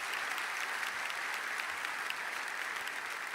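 A church congregation applauds steadily throughout, a dense, even wash of clapping with no talk on top.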